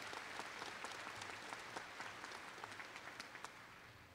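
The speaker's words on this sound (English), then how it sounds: "Let's give them a round of applause." Audience applause at a spring university commencement ceremony, steady dense clapping from a large crowd that carries on throughout, fairly distant and even in level.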